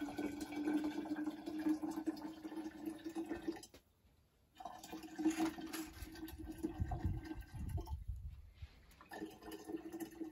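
About a liter of warm water being poured to mix a fungicide spray for spring grapevine treatment, a faint pouring and splashing flow that briefly stops and then resumes.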